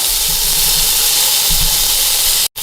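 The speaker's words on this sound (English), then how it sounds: "we're gonna let that sear a couple minutes on each side" Meat searing in a hot pan for Sunday sauce gives a loud, steady hiss and sizzle that runs nearly the whole time, with a brief drop to silence just before the end.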